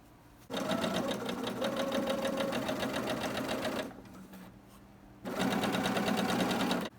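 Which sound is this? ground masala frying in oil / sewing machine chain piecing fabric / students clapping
sewing machine chain piecing fabric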